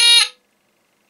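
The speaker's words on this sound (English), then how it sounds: "that's the test alarm" A single short, harsh electronic test alarm buzz from a Soeks 01M Geiger counter sounds loudly for a fraction of a second, then cuts off into silence.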